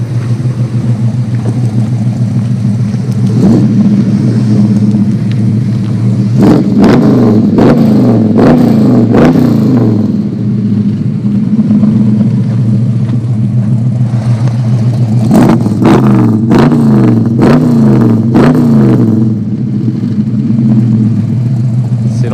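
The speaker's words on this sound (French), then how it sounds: "le 454, on est vraiment sur un vrai moteur de dragster" A 1967 Chevrolet Chevelle SS V8 settles at a loud, lumpy idle, then is revved hard in two clusters of sharp, rapid blips, with the idle throbbing on between and after the bursts.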